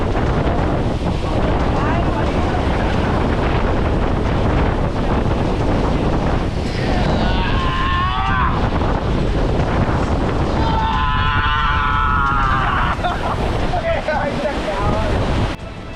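At Siddheshwar waterfall near Alibag, a 300-foot cascade used for rappelling, strong wind buffets the microphone over a roaring rush of falling water, loud and unbroken, with faint voices briefly rising through the noise.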